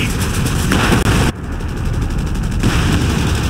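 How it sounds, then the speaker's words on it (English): Dense gunfire and explosions from the video game Company of Heroes 3, loud and close, with sustained bursts of rapid automatic fire layered over booming blasts and a brief dropout partway through. "If they're shooting at you, they're shooting at me!"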